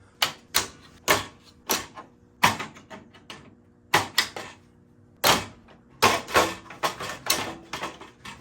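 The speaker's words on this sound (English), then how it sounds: "So you come in with the screwdriver, you push it down, and then you can pull it out." A screwdriver prying plastic retaining clips out of a car grille, a run of sharp close clicks and snaps in an uneven rhythm, each sudden and crisp with short quiet gaps between.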